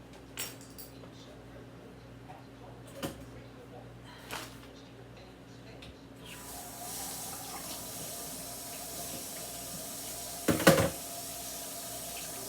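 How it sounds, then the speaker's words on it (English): A kitchen sink tap runs steadily while hands are washed with soap, the water rising to a fuller stream partway through, with a few clinks and knocks of dishes and a louder clatter near the end. "Scrub my hands with soap."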